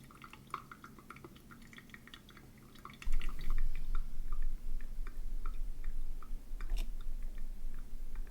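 Pourover coffee drips through the filter into a carafe in soft irregular drips and small ticks, quiet and close, with a low steady hum joining partway through.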